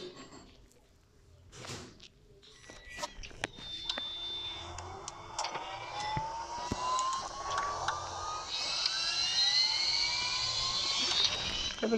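A jet aircraft passes overhead near an airport with a control tower. Its engine roar builds steadily over several seconds and is joined by rising whining tones and scattered clicks from nearby.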